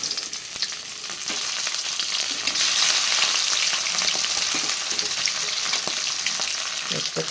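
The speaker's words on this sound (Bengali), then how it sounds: "এই মাছটা ভাজা হয়ে গেছে" Fish fries in hot oil in a pan, producing a loud, continuous close-up sizzle with crackles and occasional stirring clatter throughout.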